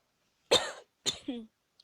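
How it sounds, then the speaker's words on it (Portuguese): Two short, close coughs in quick succession from a person playing Minecraft, the second with a rough throaty tail, followed by a faint breathy sound in otherwise quiet surroundings. "uma tossidinha aqui."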